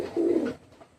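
A Pakistani teddy pigeon gives a single short, low coo close by, fading quickly into quiet.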